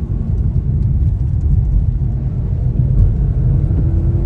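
A Hyundai Venue N Line turbo engine in sport mode gives a steady low rumble throughout, heard from inside the car as it drives, with no talking.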